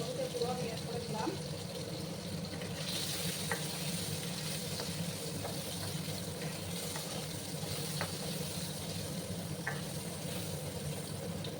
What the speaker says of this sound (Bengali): তেলটা গরম হয়ে গেছে। এবার আমি আলুগুলো দিয়ে দেবো। আলুগুলো প্রথমে আমি ফ্রাই করে দেবো।